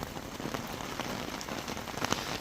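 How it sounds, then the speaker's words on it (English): Heavy rain pours down during a storm, a dense, steady hiss of drops drumming on surfaces close by, with scattered louder splashes and no voices. "If you can hear that rain, it's absolutely terrible."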